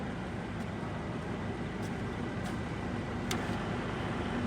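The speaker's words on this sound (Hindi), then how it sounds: "We have now engage the longitudinal और द एक्स ट्रैवल फीड." An Aciera F4 precision universal milling machine hums steadily as its table travels on slow longitudinal X-axis feed, a low, even mechanical drone with faint occasional ticks.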